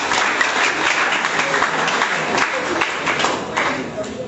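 Audience at a school debate between Comprehensive and St. Michael's College applauds a speaker, steady dense clapping filling the hall with voices mixed in.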